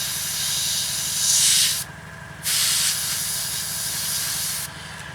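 An airbrush sprays a gentle coat onto a 1/48 Eduard SE5a aircraft model, a steady close hiss that swells in short bursts and briefly drops away between passes.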